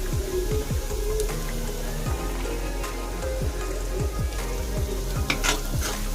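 Onion and carrot fry in oil on a fairly high flame under a constant sizzle, while a spoon scrapes and stirs the pan in repeated close strokes.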